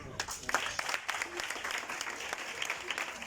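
Audience applause at a dance cup final, steady scattered clapping with sharp individual claps throughout, moderately distant, with faint voices underneath.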